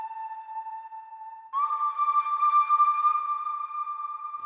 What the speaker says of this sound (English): you make like a whistling sound